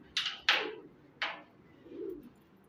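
A hungry pet bird, likely a pigeon, gives three sharp calls close by in quick succession and then a softer, lower coo, with quiet gaps between them.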